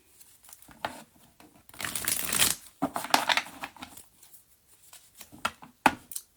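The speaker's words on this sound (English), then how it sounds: "I will shuffle this deck." A tarot deck is shuffled several times, with crisp riffling bursts and soft slaps between them, close and fairly quiet.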